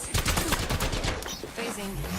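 Rapid video-game gunfire crackles in dense bursts through a team ranked match, loud and continuous across the whole stretch with voices mixed in underneath.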